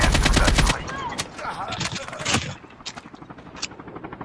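Rapid bursts of gunfire in a battle royale video game, loud automatic shots at the start followed by scattered single cracks, with a helicopter-like drone and talk mixed in.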